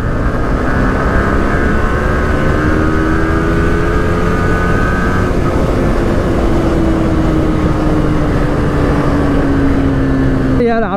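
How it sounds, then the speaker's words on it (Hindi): A Yamaha R15 motorcycle engine runs steadily at close range, a loud constant buzzing drone with slowly sliding pitch, ending in a brief burst of different noise at the very end. "अब ये मेरा सुपर बाइक चालू अभी,"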